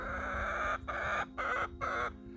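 A chicken clucks loudly up close in three or four drawn-out, throaty bursts separated by short pauses, with a faint hum underneath.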